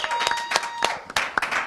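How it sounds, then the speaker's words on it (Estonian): Audience applause at the Eesti Laul 2016 song contest final, a short burst of claps rising and falling, fairly close and loud, with a bright crowd wash underneath. "Teeme suure aplausi nendele."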